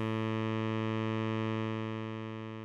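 Sustained synthesizer tone with a buzzing, stacked-harmonic drone, holding steady and loud throughout before easing slightly softer near the end; no voices.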